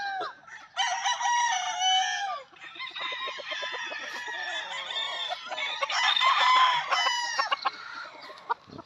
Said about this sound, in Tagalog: dami magagandang manok.